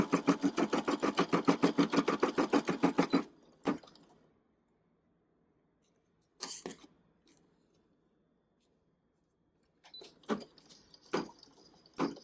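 A domestic sewing machine in a home craft studio runs a fast, steady burst of stitching for about three seconds, then stops. A few short, separate clicks and handling noises follow in the quiet.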